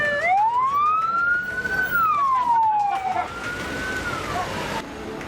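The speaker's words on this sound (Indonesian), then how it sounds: "Mobil pemadam kebakaran terus hilir mudik menuju lokasi kebakaran" A fire engine siren wails as it travels to a blaze in Sampit, Central Kalimantan, Indonesia, a loud rising and falling tone that sweeps up, holds, then slides down, with traffic noise beneath.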